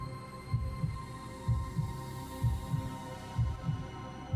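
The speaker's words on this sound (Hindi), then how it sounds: "उसके दिल की धड़कन तेज हो गई थी और उसकी सांसें भारी हो रही थीं" A heartbeat effect for a horror story thumps in steady paired beats about once a second over a low, dim drone, alone with no voices.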